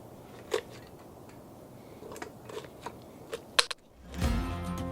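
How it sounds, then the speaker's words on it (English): Kitchen shears snip through the spine of an ALDI duck in a series of crisp, irregular cuts and crunches, close and fairly quiet, ending in a louder rustle of handling. "I think this is going to be the last time you're going to see these shears on a video."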